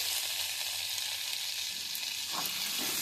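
Ground peas, mixed with a little coriander leaf, hit hot oil and get stirred for a mung dal fried puli, giving a steady, close broadband sizzle that fills the whole stretch with a few soft stirring scrapes near the end.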